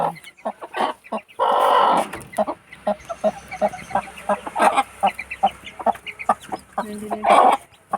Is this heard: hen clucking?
yes